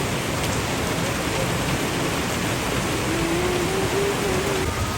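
Steady rain hisses heavily and continuously on surfaces, with a faint tonal whine drifting in toward the end.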